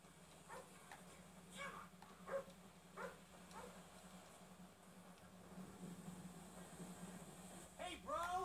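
A dog in the GTA 5 video game gives a few short, faint barks and yips over a steady low hum of game ambience, with a brief rising whine near the end.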